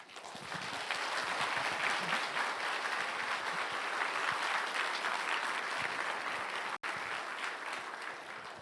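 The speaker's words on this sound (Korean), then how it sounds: "목사님 나오실 때 우리 환영의 박수를 한번 했으면 좋겠습니다" A church congregation claps to welcome the pastor to the pulpit, sustained even applause filling the sanctuary for several seconds, with a brief break near the end.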